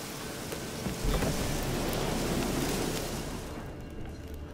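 Steady rain hisses through a thunderstorm in the video game The Witcher 3, with a low rolling thunder rumble swelling near the start and lingering before the downpour thins toward the end.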